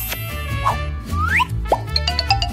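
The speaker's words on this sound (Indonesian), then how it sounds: "Lalu ayo tambahkan Nutella ke dalam adonan dan aduk." Nutella drops into pancake batter and gets stirred in, making a quick series of wet plops and squelching slides, close and fairly loud.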